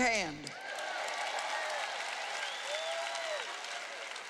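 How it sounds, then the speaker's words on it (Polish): An audience in a sermon hall gives steady, sustained applause for a man named Dave, a dense wash of clapping at a moderate distance, with a speaking voice briefly over it at the start. "Oklaski dla Dave'a."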